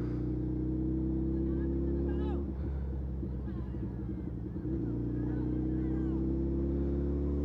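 A Suzuki Hayabusa motorcycle rides along a highway with a steady, droning engine hum. A rougher, louder rumble swells midway, then the hum settles back.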